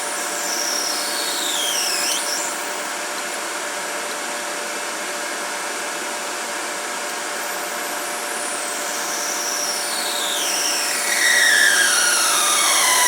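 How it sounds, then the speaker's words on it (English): A 1.6 mm drill bores by hand into a brass bush on a Denford Orac CNC lathe, giving a steady, fairly loud whirring hiss with slowly sweeping tones, rising slightly toward the end, with no talking. "Now a case of hand drilling."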